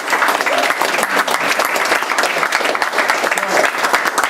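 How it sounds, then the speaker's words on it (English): A large audience at the Enactus Nationals competition breaks into loud, dense applause, sustained and even throughout, with some crowd noise mixed in. "give a rousing round of applause for Scott and Cheryl"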